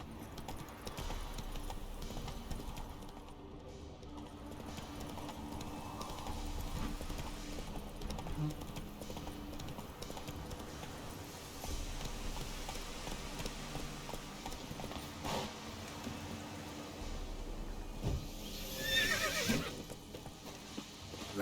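Roach, Geralt's horse in The Witcher 3, gallops with continuous clip-clop hoofbeats and lets out a loud neigh near the end, amid game ambience and a faint voice.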